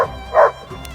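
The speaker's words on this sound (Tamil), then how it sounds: "அந்த நாய் ஏகலைவனை பார்த்து இடைவிடாம குறைக்க" A hunting dog gives a single short bark, loud and close, with no other sound around it.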